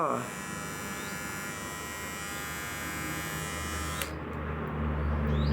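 A steady VGR Navigator V-043 electric shaver buzz hums continuously at close range, its tone shifting slightly near the end.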